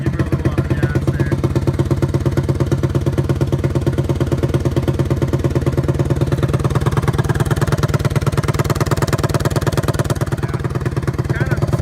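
A small, unmuffled Honda Z50 mini motorcycle engine, missing its exhaust, runs close by with a loud, rapid popping rattle, idling and revving steadily throughout.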